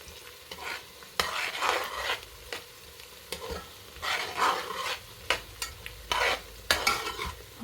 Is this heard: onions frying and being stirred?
yes